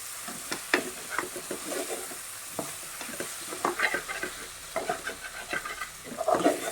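Chopped tomatoes sizzle and fry in a pan over lowered flame while a spoon stirs them in irregular scraping bursts, close and fairly quiet, with no voices.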